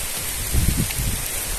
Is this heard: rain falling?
yes